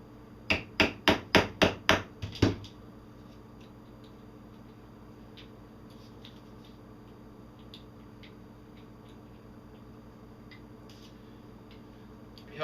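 A hammer strikes rapidly to pop the primer out of a fired shotgun shell. About seven sharp metallic taps land in quick, even succession, then it goes quiet with only faint room noise.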